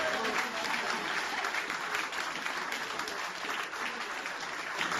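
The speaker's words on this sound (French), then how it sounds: "On applaudit très fort." A crowd applauds the winner of an international chess open at a prize ceremony, producing dense, continuous clapping that stays even and sustained throughout, from a room full of people.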